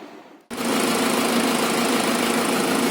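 Toyota Prado engine running with its viscous fan clutch fan spinning, starting abruptly after a brief quieter moment and then holding a steady, fairly loud whirring rush of air over a low mechanical hum, with no voices.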